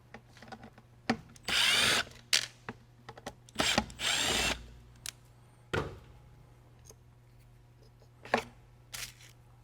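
A power driver spins out T20 Torx screws from the plastic MAF sensor housing on a 6.7L Powerstroke's cold-air intake, with two short whirring bursts plus a few clicks and handling knocks, close and loud.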